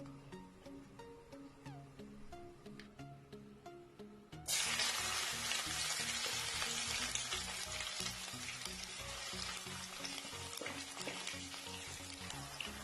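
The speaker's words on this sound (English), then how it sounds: "So next I will be frying the stew, the tomato sauce for our jollof spaghetti." A sudden loud sizzle bursts up as tomato sauce hits hot oil, then continues as steady crackling frying, with soft clinks and stirring sounds underneath.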